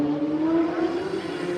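A racing motorcycle at Castletown corner during the Pre TT Classic on the Isle of Man, its engine a steady loud whine held at high revs, heard briefly and fairly close with no talking.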